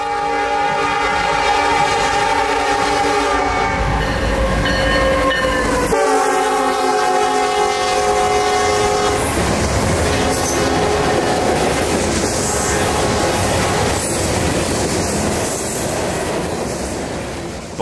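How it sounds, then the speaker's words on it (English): A Norfolk Southern grain train on the CNO&TP line near Chattanooga passes close and loud, its horn blaring in long sustained chords before the steady rumble and clatter of the rolling cars takes over. "It was a Norfolk Southern grain train of some kind or another."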